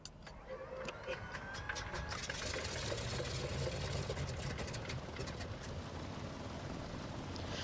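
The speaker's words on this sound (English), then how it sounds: "As you can hear, idling." A Douglas DC-3 piston aircraft engine idles in X-Plane 11 with a steady, rough rumble and faint rattling clicks, running continuously at moderate volume.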